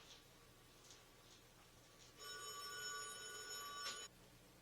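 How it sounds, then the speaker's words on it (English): A telephone bell rings in a workshop, a bright sustained ring of about two seconds starting partway through, after quieter background ticking, no talking. "there's the damn phone"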